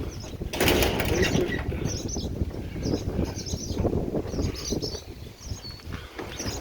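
Rapid, continuous flapping of bird wings as birds attack a cat, a loud fluttering rush that holds steady throughout.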